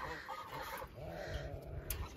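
Geese honk and cackle close by, several overlapping calls amid soft farmyard noise.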